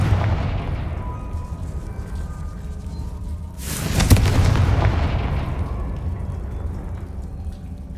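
A Confringo explosion spell from the Hogwarts Legacy video game bursts once around the midpoint as a loud, broad blast, then decays slowly into a rumbling, noisy ambience, with no talking.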